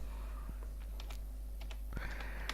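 Keys on a computer keyboard are typed in light, irregular clicks, close up against a steady low background hum.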